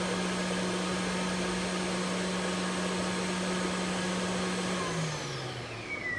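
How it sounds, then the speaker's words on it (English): Floor scrubber's vacuum motor running with a loud, steady whine and hum that holds constant, then winds down in pitch near the end as it is switched off; no talking. "And then hit your vacuum button to turn off the vacuum."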